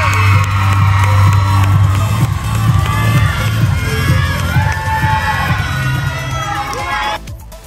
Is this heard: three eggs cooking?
no